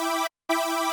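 Detuned sawtooth synth chord from the top layer of Reason's Maelstrom, spread wide and detuned left and right, sounding as two bright, buzzing sustained hits with a short gap between, alone and up close.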